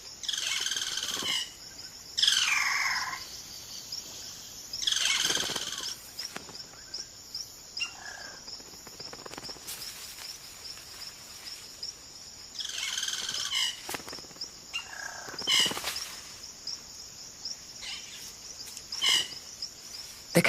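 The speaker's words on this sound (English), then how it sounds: "The cacique males now go about the important business of attracting a partner by puffing up their plumage and showing off their remarkable vocal range." Male caciques in the Amazon call in loud, varied bursts of whistles and liquid notes that recur every few seconds over a steady insect buzz in the forest.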